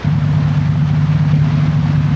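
A boat engine running close and loud, a steady low droning hum with a constant pitch and no voices over it.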